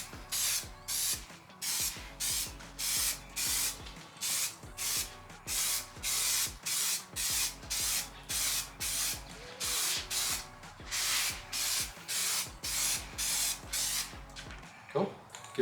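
Short rhythmic bursts of spray paint hiss out as a mist coat goes onto a Nissan Skyline R33, roughly twenty evenly spaced passes with brief gaps between, close and steady with no speech.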